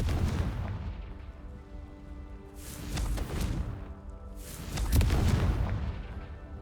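Explosive Confringo spell blasts in the Hogwarts Legacy video game: two heavy booming bursts, each followed by a rumbling tail, over a low, steady game ambience.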